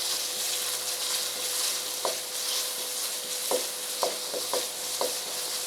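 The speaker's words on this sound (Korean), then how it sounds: "제가 불을 중불에다 지금 놓고 볶아주고 있는 거예요." Garlic stir-fries in cooking oil over medium heat, a continuous bright sizzle with several sharp spatula taps and scrapes against the pan.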